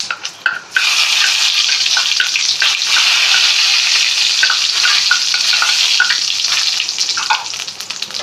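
Loud, continuous frying as mustard seeds and fennel seeds crackle in hot coconut oil in a pan, with bright pops over a dense hiss lasting several seconds and no voices.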